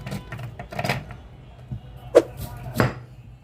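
A few sharp chopping thuds and clacks of vegetables such as carrots being cut in a food chopper, irregularly spaced and fairly close, with a soft background hum.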